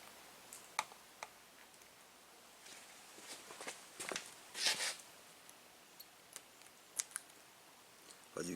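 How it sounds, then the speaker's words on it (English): Razor blade cutting the seams of vinyl pinstripe tape on a boxy Chevy Caprice body, faint, sparse scratchy slicing ticks and short scrapes spread irregularly through otherwise quiet surroundings. "you want to get your razor blade and go back and cut out the seams"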